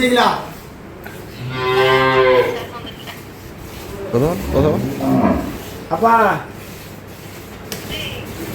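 Improved-breed dairy cows on a farm in Dinajpur give one long, close, drawn-out moo, with shorter lowing sounds and people talking nearby.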